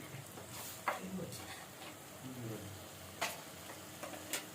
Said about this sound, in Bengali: দিয়ে আমি ভালো করে নেড়ে নেবো